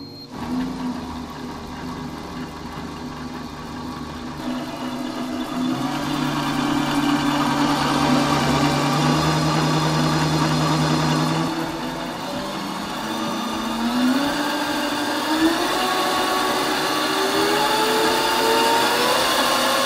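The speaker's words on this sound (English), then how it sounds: "Definitely a bit more chain sound" An electric-converted Toyota Stout pickup drives with a steady whining hum from its motor and chain drive, the tone climbing and falling as speed changes, loud and close with no talking.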